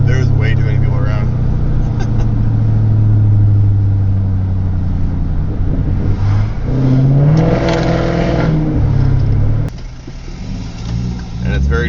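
An Infiniti Q45 with an Audi R8 coilpack swap accelerates at 40% throttle, its engine note rising steadily and loud throughout, with a drop in level near the end as it eases off.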